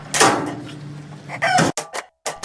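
A rooster crows loudly nearby, followed by several short, sharp clucks from chickens.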